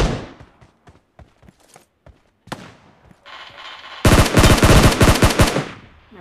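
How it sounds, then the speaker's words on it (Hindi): Gunfire in the mobile game BGMI: scattered single shots at first, then a loud sustained automatic burst of rapid-fire rounds near the end. "अरे यार फालतू में गोलियां चला रहा हूँ"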